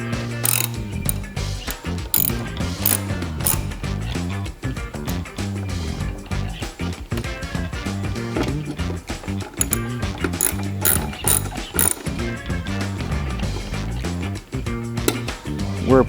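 A ratchet tightens the mounting screws of a bag on a Harley-Davidson Low Rider ST during a Softail conversion kit install. Close, loud, rhythmic clicking comes in repeated bursts with brief pauses between strokes.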